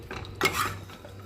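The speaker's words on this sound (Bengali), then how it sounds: "আমি এবার প্রেশার কুকারটা খুললাম" A pressure cooker of mutton cooked without oil or water is opened, a brief metallic clank of the lid against the pot followed by a short soft scrape, close and alone.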